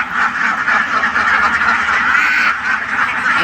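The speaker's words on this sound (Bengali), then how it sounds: "এখানে কিন্তু আপনার 3000+ হাঁস আছে" A large duck farm holding more than 3000 ducks fills the air with a loud, dense chorus of overlapping quacks, steady and unbroken throughout.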